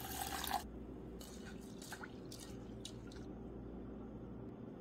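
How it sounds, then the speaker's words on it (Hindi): Toor dal lentils are washed in water inside a pressure cooker, producing faint, quiet sloshing and a few soft drips and squishes. A short splash of water comes at the start. "दाल को हम 2-3 पानी से धो लेंगे।"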